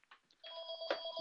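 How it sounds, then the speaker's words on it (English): A telephone rings during an indoor talk, a faint electronic trill with a sustained tone after a few soft clicks, short and alone. "For the phone that's ringing."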